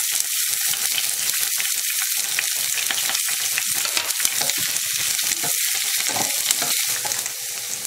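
Cubed onions, garlic and curry leaves sizzle loudly in hot oil. Dense crackling runs throughout, broken by frequent stirring scrapes, all close up.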